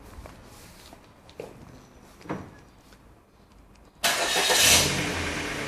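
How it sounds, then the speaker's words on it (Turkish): A Ford Focus engine starts after a few quiet clicks and faint handling noises: an abrupt burst of cranking that catches into a loud, steady running engine close by. "Çalıştırın arabayı."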